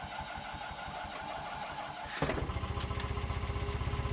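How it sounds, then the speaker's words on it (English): A Fiat 126 car engine is cranked by the starter for about two seconds, then catches and settles into a loud, close, rhythmic idle. "now the car has actually started"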